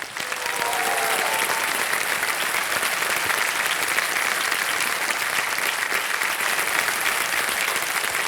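Steady, dense audience applause fills a quiz-show studio for a contestant, loud and continuous without a break and with no talk over it.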